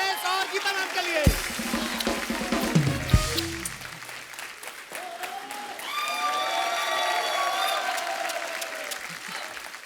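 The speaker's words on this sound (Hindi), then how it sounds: "जोरदार तालियां मलाइका, टेरेस और गीता मैम के लिए" Loud applause from a large crowd at a comedy show, sustained clapping with some cheering and music rising beneath it.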